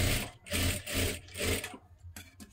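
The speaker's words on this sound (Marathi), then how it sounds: "आता इथे बघू शकता अशा पद्धतीने आपण ही पट्टी शिलाई करून घेतली" Sewing machine stitching a piping strip onto a blouse neckline, running in short close whirring bursts that start and stop several times.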